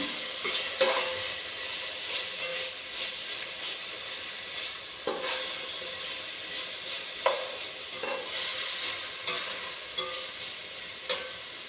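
Ingredients roast in a single pot with a constant crackling sizzle, marked now and then by scraping stirs and small taps of a spoon against the metal, with no talking.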